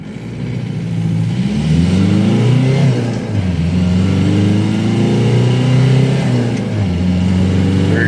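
Dodge Dakota pickup with a swapped TDI ALH diesel and NSG370 transmission accelerating hard, engine note climbing steadily through the rev range, loud and close from inside the cab, with no talking.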